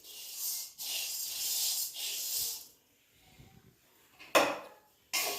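Wheat grains poured into a dry spice mix with cumin and coriander while preparing Diwali chakli dough, soft hissing trickles in several bursts followed by a couple of sharp rattling clatters.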